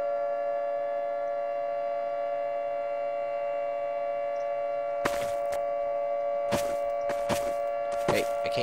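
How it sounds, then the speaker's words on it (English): A steady tonal siren in the video game Garry's Mod holds one pitch throughout, loud and unchanging, with bursts of noisy thumps and clatter in the final seconds. "The siren's going off."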